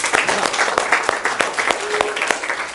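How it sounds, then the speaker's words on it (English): Audience applause at a talk, with a crowd clapping in a quick, steady patter of sharp individual claps, moderately close, with faint voices murmuring beneath it. "You give him a round of applause, everybody."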